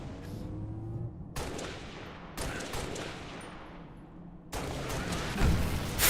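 Gunfire in Halo: Reach, a series of sharp blasts and volleys spaced a second or two apart, each trailing into noisy decay, with a heavier burst near the end and no speech.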